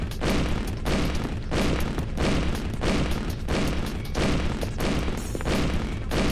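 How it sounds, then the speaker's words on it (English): Fireworks in the video game Gurumin: A Monstrous Adventure burst loudly in a rapid, continuous barrage of booms, one after another without pause. "Those fireworks are ridiculous."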